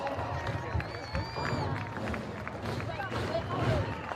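A crowd at a Curtis High School varsity football game applauds steadily for several seconds, with dense clapping mixed with cheers and a busy babble of voices throughout.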